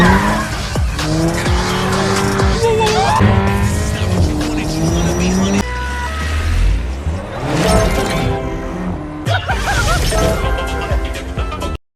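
A car speeds away from pursuing police with loud engine revving and repeated tire squeals and skids, one crash-like burst midway, and dramatic music underneath.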